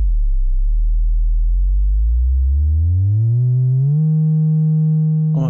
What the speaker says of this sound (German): dann kann ich tatsächlich einen Sound erzeugen, 50 Hertz